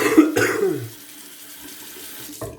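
A congested person coughs a few times in quick bursts near the start, close and fairly loud, then faint running water trickles in the background before a short final cough.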